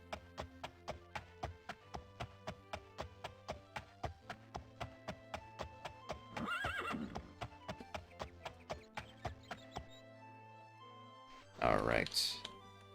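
A horse in the DOS game The Elder Scrolls: Daggerfall clip-clops in a steady, even rhythm of hoofbeats, broken by two loud neighs, one midway and a stronger one near the end.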